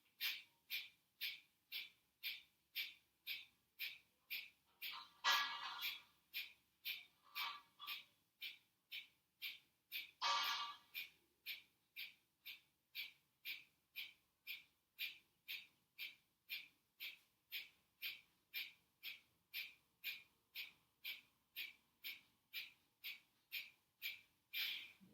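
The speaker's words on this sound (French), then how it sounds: "Kapalabhati à droite, le mantra Ram à chaque soufflet." Kapalabhati yoga breathing through the right nostril: a long, steady train of quick, forceful nasal exhalations, roughly two per second, close and clear, broken twice by a deeper inhaling breath.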